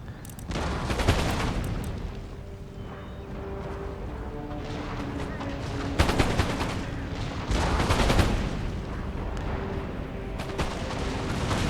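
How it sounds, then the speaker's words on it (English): Repeated bursts of musket volleys from massed troops in an Empire: Total War battle, loud crackling fusillades swelling and fading over a constant din of battle, with no talk. "Let's see if we can get some volleys off, guys"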